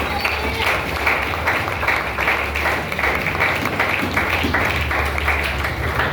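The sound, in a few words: congregation clapping for Jesus in church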